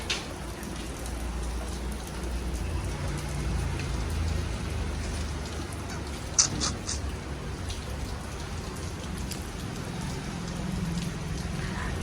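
Steady rain falls outdoors in a continuous broadband hiss with scattered drop patter, including one brief sharper tap midway, a moderate wash of sound with no voices.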